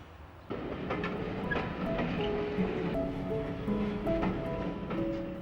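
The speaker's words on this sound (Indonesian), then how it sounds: "Tak lama kemudian, kereta yang ditumpangi Kelly mulai bergerak." A passenger train pulls away from a station, a steady rolling rumble rising after a quiet start with faint wheel clatter and squeals throughout, continuous and moderately loud with no voices.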